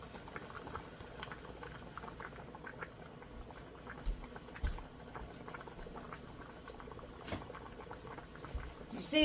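A pot of water for rice bubbles at a steady boil on a stove, a soft continuous patter and popping of bursting bubbles heard close and fairly quiet, with a brief clank near the end.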